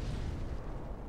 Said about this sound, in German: Wieso bist du explodiert?